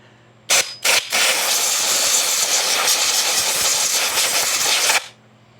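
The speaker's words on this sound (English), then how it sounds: "Let me go get the air hose turned on, get this blue out" Compressed air hose blowing out a Stihl 026 chainsaw cylinder: two short bursts of air, then one loud, steady hiss lasting about four seconds before it cuts off, close and alone without talk.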